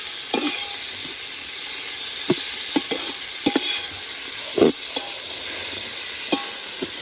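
Tomatoes fry in a pot for chicken biryani under a loud, steady sizzle. A spoon scrapes and clinks irregularly as the mixture is stirred.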